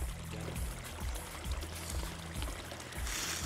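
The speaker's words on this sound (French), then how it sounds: "Le ruisseau au Touldoir qui se jette dans le Blavet marque la séparation entre Lanester et Hennebont." Water of the Touldoir brook running on its way toward the Blavet river, a steady rushing flow with a recurring low gurgling pulse about every half second, close and continuous with no voices.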